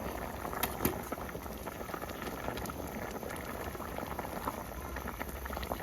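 Thai fish curry with winter melon simmering in a covered pot, with a soft continuous bubbling and popping that stays close and even the whole time.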